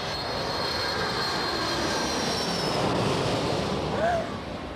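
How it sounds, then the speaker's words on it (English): An airplane comes in to land, its engines giving a continuous, moderately loud roar that holds steady and eases slightly near the end. "Looks like that plane's going to make a slightly more successful landing than you did, Edward."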